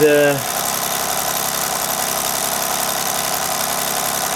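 A Mamod Minor 2 stationary steam engine with a press-fit flywheel runs steadily at full speed, giving a dense continuous mechanical whir with a brief tonal squeal at the start, close and fairly loud.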